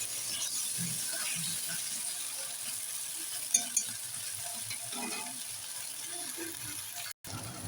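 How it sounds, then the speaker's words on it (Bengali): A coriander and cumin spice paste frying lightly in a pan for a capsicum chicken dish, a soft continuous sizzle with faint scraping stir sounds and a couple of small clicks, no talking. "ধনে জিরে বাটা এই মশলাটাকে আমি একটু হালকা করে কষিয়ে নেবো"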